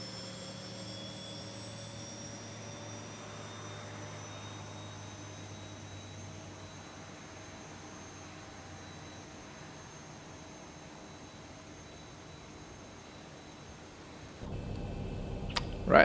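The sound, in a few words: Zibo Boeing 737 jet engine starting, X-Plane 11 video game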